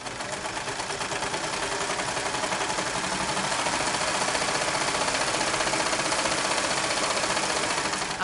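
Serger sewing machine running steadily while stitching serger crochet, a dense, continuous, close mechanical whir with a rapid rhythmic chatter that holds at an even loudness throughout.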